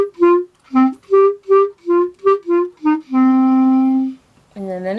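Single melodic instrument plays the intro line of a song: nine short detached notes in a steady rhythm, then one long held note, a pause, and a final rising note, loud and alone.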